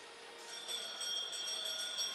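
A bell rings during race finals at the Geisingen arena, a sustained bright metallic tone that holds and swells slightly over a couple of seconds against a quiet hall.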